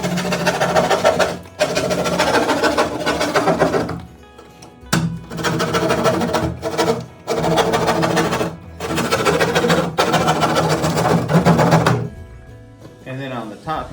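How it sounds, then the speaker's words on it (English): A hand drywall saw cuts drywall up and down the sides of a door opening, giving rapid, rhythmic rasping strokes in several loud bursts separated by short pauses, with the sawing stopping near the end. "you take a drywall saw and you cut up or down the sides"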